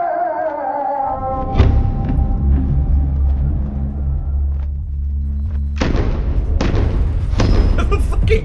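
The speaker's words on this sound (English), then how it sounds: "Gunshot sound effect effects like it's an Xbox 360 first-person shooter menu." Gunshot-style sound effects from an Xbox 360 first-person shooter menu, a deep booming thump followed by a sustained low rumble and a few sharper later bursts, loud and close.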